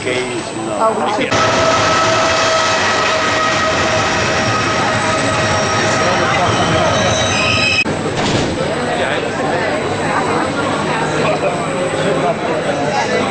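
A train in Italy rumbles past loudly and steadily, with metallic wheel tones and squeals over the rolling roar. There is a brief break partway through, and then the roar carries on.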